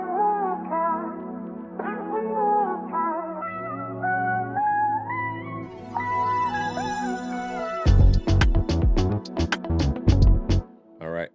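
Soft synth chords and melodic lines drift with echoey reverb, then punchy rhythmic hits enter near the end; no talking.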